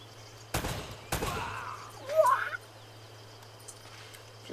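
Gunfire in the Uncharted video game, heard as two sharp, loud shots about half a second apart, followed by a brief warbling electronic game sound, over a steady low hum.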